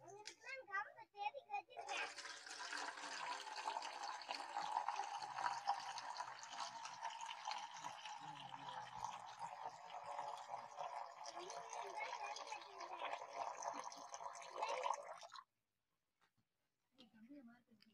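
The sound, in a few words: palm sap poured and mixed into squeezed lemon juice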